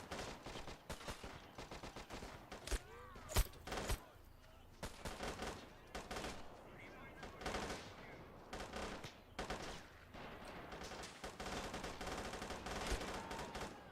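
Elite MG34 machine guns fire in a strategy video game battle. Repeated sharp bursts of rapid fire crackle near and far over about fourteen seconds, mixed with other battlefield noise.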